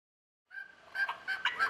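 After a moment of silence, wild turkeys break into rapid, warbling gobbles, fairly close and repeating in quick bursts.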